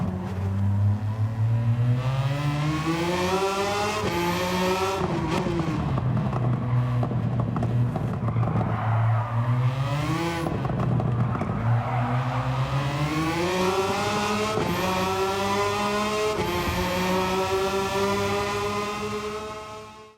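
A 443-horsepower Nissan engine in Gran Turismo 7 revs loudly and continuously, its pitch climbing and falling through several gear-like sweeps before fading at the end, with no talking.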